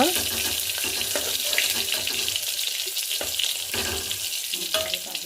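Crushed garlic cloves and dried red chillies frying in tempering oil for an Andhra-style mango moong dal rasam, a bright continuous crackling sizzle with stirring knocks, close and fairly loud.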